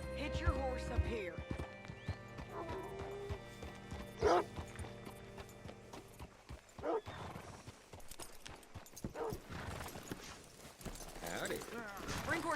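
Horse hooves clip-clop in the Western video game Red Dead Redemption 2, with irregular nearby steps, a whinny and some brief creaks, while voices talk over the scene.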